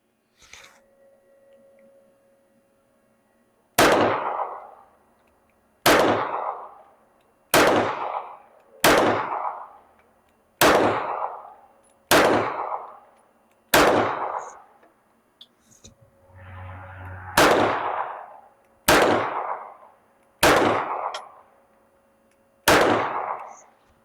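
A Smith & Wesson M&P 9 Competitor PC carbine fires 115 grain ammunition in about a dozen sharp, loud, close reports, spaced steadily with brief gaps and ringing decays.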